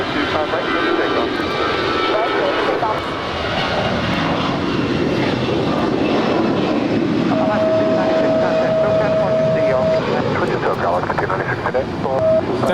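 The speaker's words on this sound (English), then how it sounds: "That is Alaska 296 departing to Seattle, Tacoma. It's an A320." An Alaska Airlines A320 takes off from runway 25 right at Los Angeles International Airport, its engines roaring loud and steady throughout, with tonal whines rising late, while a voice talks over the noise.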